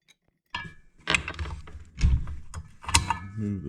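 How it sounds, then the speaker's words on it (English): A 13mm socket loosens the arbor bolt on a Makita circular saw, producing a close series of short metallic clicks, ratcheting ticks and light clanks over a few seconds. "using a 13mm socket, go ahead and remove the arbor bolt."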